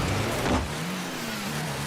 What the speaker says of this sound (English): He is in the standard Rocket League car.